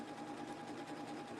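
A sewing machine stitches a Christmas spool garland in a rapid, even mechanical whir, quiet and close, with a steady pulsing rhythm.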